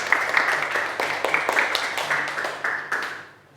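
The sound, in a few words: applause for group 1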